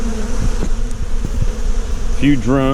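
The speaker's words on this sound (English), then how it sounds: "We got fuzzy bees starting to come out." Loud, close buzzing of many honeybees, including drones, hums continuously at a hive, and a voice briefly speaks near the end.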